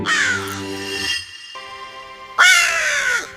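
A crow caws loudly in a children's moral story about a crow and a sparrow, with two harsh bursts of cawing separated by a brief pause and no talk.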